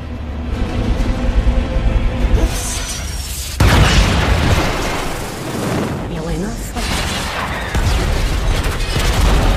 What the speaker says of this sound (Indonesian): membuat ledakan besar yang akan membuat kapal terbang itu jatuh.